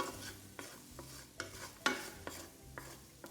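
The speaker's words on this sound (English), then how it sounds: "We'll saute that with the garlic." Garlic and red pepper flakes sauté in a pan, with soft sizzling broken by several distinct scrapes of a utensil stirring, close and moderately loud, no voices.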